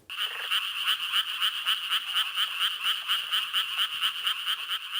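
A played recording of a Japanese tree frog calling: a rapid, evenly pulsed series of bright, rasping notes repeats steadily for the whole stretch, loud and close with no voices.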